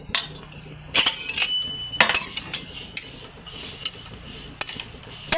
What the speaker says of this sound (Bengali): ততক্ষণ আমি তিলটা ভেজে নেব। তিলটাও দিয়ে দিচ্ছি।